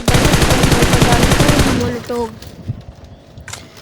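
Automatic gunfire in the battle-royale game PUBG Mobile, a rapid loud burst of shots for about two seconds, then a few scattered single pops, with a voice talking in the background.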